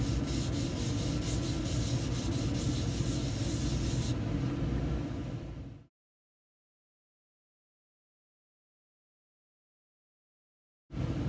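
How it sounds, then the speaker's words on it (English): Hand rubbing a glued paper shape down onto paper for a kindergarten shape project, a steady close scratchy friction that runs for about six seconds, then silence until a brief burst of rubbing at the end. "And I will rub around the edges and in the middle."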